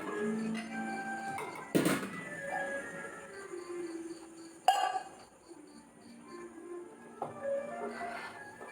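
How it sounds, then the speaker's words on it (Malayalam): Dishes being gathered and moved after cooking, producing a few sharp clinks and knocks of crockery and metal at irregular intervals, close but fairly quiet over a soft background hum. "പാത്രങ്ങളെല്ലാം മാറ്റട്ടെ"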